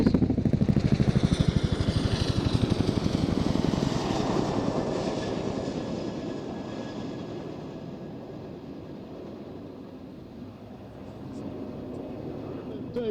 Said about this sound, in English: taking the Chinook into a move we call the roller coaster